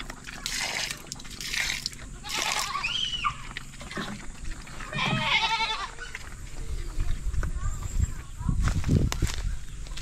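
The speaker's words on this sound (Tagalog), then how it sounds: "Hindi pa nakalabas yung dalawang kambing." Two goats penned on a Filipino farm bleat several times up close amid shuffling footsteps, rustling and farm noise, with a person talking over parts of it.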